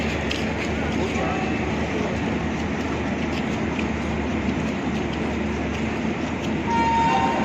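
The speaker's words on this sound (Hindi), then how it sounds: "फाइनली ट्रेन पहुंच गई है निजामुद्दीन रेलवे स्टेशन" The Garib Rath Express pulls into Nizamuddin railway station with a continuous heavy rolling rumble, a brief horn toot near the end, and people talking faintly underneath.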